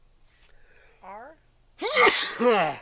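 A person speaks briefly, then a single loud, close sneeze bursts out.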